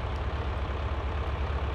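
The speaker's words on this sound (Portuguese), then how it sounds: "eu tô indo lá com o trator já" A tractor engine in Farming Simulator 19 drones steadily as it drives, a dense, even low rumble that holds close and constant with no breaks or talk.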